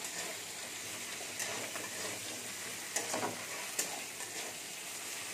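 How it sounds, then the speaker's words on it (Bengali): Chopped onion and ginger-garlic paste fry in a pan for a potol and egg curry, a steady close sizzle broken by a few sharp scrapes of stirring, with no talking. "আদা রসুনটা একটু ভেজে নেবো।"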